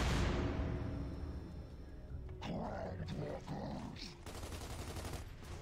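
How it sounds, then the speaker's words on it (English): Mortar fire and battle noise in the Xbox 360 shooter Gears of War 2: a dense, loud wash of booming blasts and gunfire rolling on for several seconds, with bursts and rumbles continuing throughout. "Mortar."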